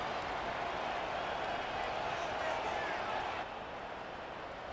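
Stadium crowd roaring in Madden NFL 25 before a Monday night Commanders vs. Bills game at Highmark Stadium, a steady dense wash of cheering noise that holds loud throughout and dips slightly near the end.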